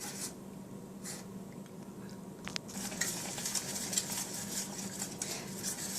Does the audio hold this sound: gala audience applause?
no